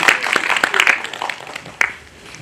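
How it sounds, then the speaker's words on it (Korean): A small live audience at a film screening Q&A claps briefly, with scattered individual claps fading after a quick burst. "박수 한번"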